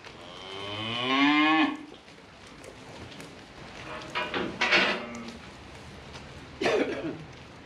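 Young cattle moo loudly once at close range, a long harmonic call, followed by quieter shuffling and clattering sounds in a farmyard while a new drinker is being fitted for the young stock.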